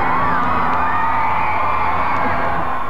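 A dense crowd lining Garfield Avenue in Minnesota in 1990 calls out and cheers for Raisa Gorbachev, a steady roar of voices with whoops and children's shouts rising above it throughout.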